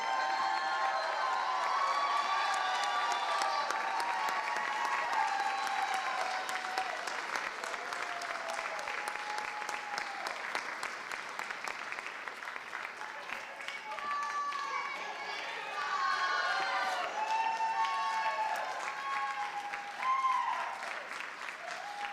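Audience applause at a school district awards ceremony honoring a middle school volunteer, sustained clapping from a large indoor crowd with scattered cheers and shouted voices rising over it, continuing steadily for the full stretch.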